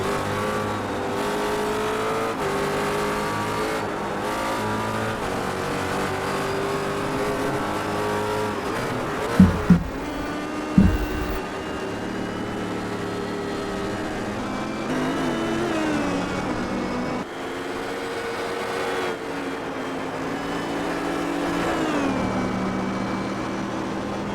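Ford GT race cars in a GTC sim racing game at Road Atlanta, their engines droning steadily and shifting pitch as they rev and pass, with a few brief thumps and no talking.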